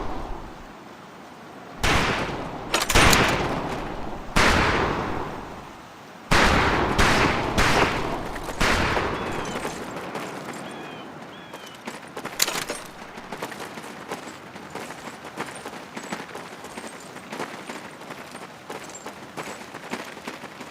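Gunfire on a Medal of Honor Pacific Assault firing range: loud heavy shots and bursts at uneven intervals, then lighter scattered rifle reports that fade toward the end.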